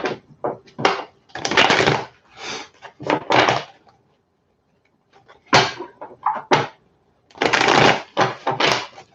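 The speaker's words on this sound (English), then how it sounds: "I feel like I need to shuffle that one more time" Tarot cards are shuffled by hand in a series of close, crisp riffling bursts, separated by short pauses, with no voice over them.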